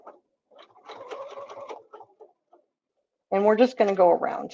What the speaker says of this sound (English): And now I'm going to stitch